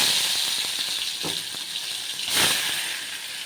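Ground masala sautéing in oil, a close, continuous sizzle and crackle with a few soft stirring knocks.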